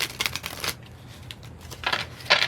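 Large oracle cards shuffled by hand, a few close crisp riffling bursts separated by short pauses.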